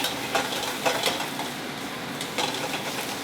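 Pasta tossed into a hot pan with pesto and pine nuts, giving a soft sizzle with short bursts of stirring and scraping against the pan, close and fairly loud.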